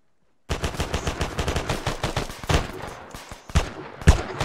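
Rapid gunfire from a firing line in a military-style exercise, a steady run of close, sharp shots followed by more scattered, irregular bursts, loud and with no talking.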